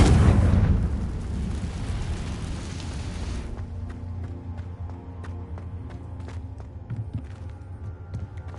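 Confringo spell in Hogwarts Legacy bursts into a loud, deep explosion that rolls off over a few seconds, followed by scattered crackling debris and small pops.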